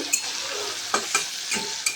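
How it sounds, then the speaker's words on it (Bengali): Hilsa fish oil frying hot with spices in a pan: a bright, continuous sizzle with a few brief scraping stirs popping out over about two seconds. "তেলটাকে বেশ একটু লাল লাল করে ভেজে নেব"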